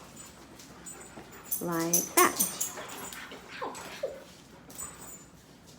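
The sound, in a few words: dogs whimpering and barking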